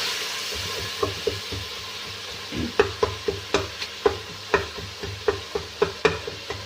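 A spoon stirs and mashes tomatoes in a frying pan with potato and cauliflower, giving irregular close knocks and scrapes against the pan over a soft steady sizzle.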